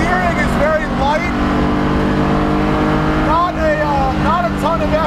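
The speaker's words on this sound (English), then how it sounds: "The engine is nice and silky smooth." A BMW Spec E46 330ci race car on a track, its engine droning loud and close and rising in pitch through repeated revs and upshifts while someone talks over it.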